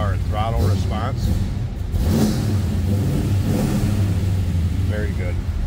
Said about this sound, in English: All right, start it up. When it comes to life, it comes to life. Great sounding car and throttle response.